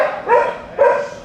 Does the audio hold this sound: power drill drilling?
no